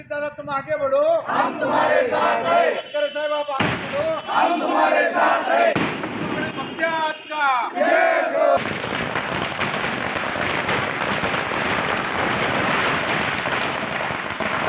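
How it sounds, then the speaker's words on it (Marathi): A crowd cheers and chants loudly at an office celebration of an election win, with rhythmic shouted slogans followed by a sustained roar of crackling firecrackers. "किसन जाधव यांच्या संपर्क कार्यालयात जल्लोष करण्यात आला"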